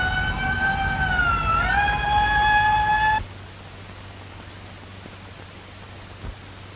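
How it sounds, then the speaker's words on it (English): Emergency siren on an old 16mm film soundtrack, a loud wailing tone with a brief pitch dip that cuts off abruptly after about three seconds, leaving hiss and a faint low hum with a single small thump. "Isn't that the sirens again?"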